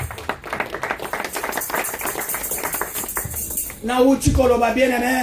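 A church congregation at a Sunday service claps for the Lord, a stretch of brisk, dense hand claps that ends in a louder burst with a voice over it.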